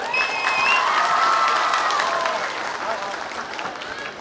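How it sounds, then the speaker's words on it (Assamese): A crowd claps steadily for about four seconds at the Rabha Hasong cultural festival, the applause dense and fairly loud, with a voice or tonal sounds faintly audible through it. "জোৰদাৰ তালি এটা হ'ব লাগে।"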